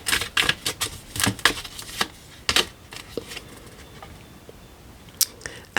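Oracle cards being cut and drawn from a deck, a run of quick dry card snaps and shuffling flicks in bursts, close and fairly crisp, with brief pauses between handlings and no talking.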